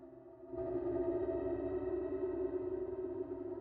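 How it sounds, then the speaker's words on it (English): A sustained, ghostly ambience pad for a bass house breakdown swells in after a soft start and hangs as a steady, airy drone, moderately quiet and alone. "Then you want to add some ambience effects like this."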